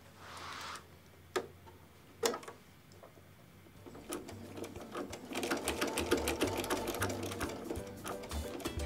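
A sewing machine stitching quilt binding, starting after a few isolated clicks and thumps, then a steady fast mechanical chatter of stitches that builds and keeps running, close up with no talking.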